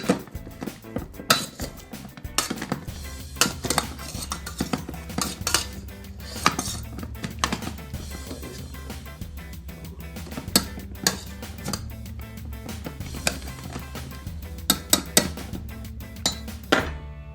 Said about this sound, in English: Here we go, let's mash the potatoes.